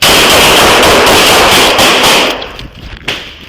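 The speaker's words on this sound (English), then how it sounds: "shots fired, shots fired" A rapid burst of gunfire during a police officer-involved shooting, loud and dense, with sharp reports crowding together before tapering into quieter scattered noise.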